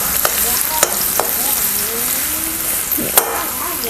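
Ginger and garlic fry in hot oil, a loud, continuous sizzle close by, broken by a few sharp clinks of a stirring spoon against the pan.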